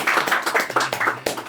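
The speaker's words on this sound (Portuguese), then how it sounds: "Uma salva de palmas pro Faria." A studio audience at a Brazilian podcast taping claps in a brief round of applause, with dense, uneven hand claps close by and no talking.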